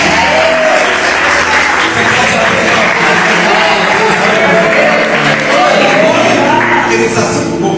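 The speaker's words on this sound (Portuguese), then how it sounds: "Você pode aplaudir o Senhor." A church congregation applauds during a worship service, a dense, steady wash of clapping that holds for the whole stretch, with crowd voices mixed in.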